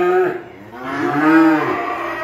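Cattle at a farm moo in two drawn-out bellowing calls, the second longer and rising then falling, loud and close with no talk.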